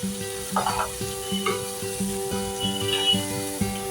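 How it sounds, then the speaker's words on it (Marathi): Shredded cabbage sizzles steadily as it is sautéed in a pan for a vegetable dish, with a spoon scraping and clinking against the pan as it is stirred. "कोबीला छान परतवून घ्या"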